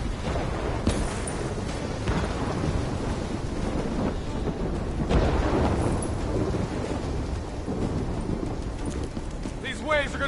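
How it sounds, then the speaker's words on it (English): Stormy seascape in the Call of Duty video game, with steady roaring wind, rain and surf noise throughout and occasional heavier rumbles, while voices talk over it. "Storm's only gonna get worse."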